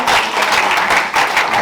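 A church congregation applauding during intense prayer, dense continuous clapping from many hands filling the room, loud and close, with no voices standing out.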